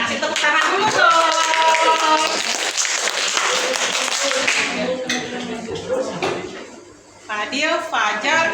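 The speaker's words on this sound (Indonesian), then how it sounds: "kelompok Fadil kasih tepuk tangan dulu dong." A classroom of students clapping for Fadil's group in a guidance lesson, bright scattered claps with voices over them, fading briefly before a few more claps and talk resume.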